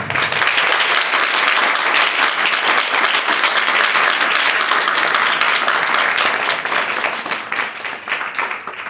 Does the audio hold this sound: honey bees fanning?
no